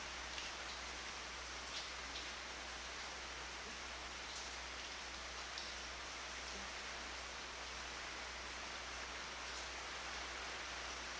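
Steady rain falls during an outdoor talk session in August 1990, a dense, even hiss of drops pattering on surfaces with faint scattered taps, continuous and fairly quiet, with no voices over it.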